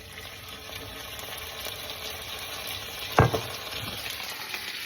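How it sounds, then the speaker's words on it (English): A little sauce sizzles steadily in a hot pan while it is stirred, a continuous frying hiss with a sharp clatter of the utensil partway through and soft scraping around it. "You just want to put a little bit of your sauce in and start stirring."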